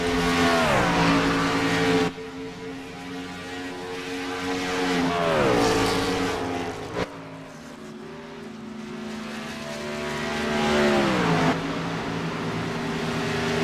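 Race cars lapping at Texas in a racing video game, engines droning loud and steady with repeated rising and falling pitch sweeps as cars pass and shift, no voices over it.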